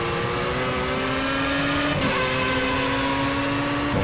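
Steady race car engine drone at high revs from Project Cars, on a straight at a racing circuit in the PS4 version, with harmonic engine tones holding a sustained pitch and only a brief dip near the middle.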